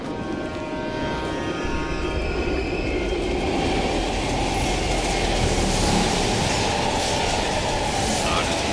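A subway train in the Call of Duty Black Ops Cold War video game rumbles past in an underground tunnel, loud and continuous with clattering wheels and faint squealing, no talk heard.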